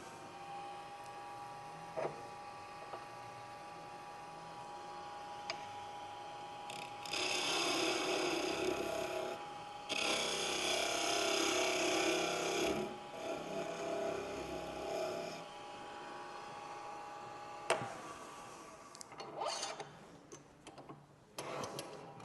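A small wooden Christmas ornament turns on a lathe with the tailstock engaged, the gouge cutting in several loud rasping passes separated by quieter stretches of motor hum and occasional taps.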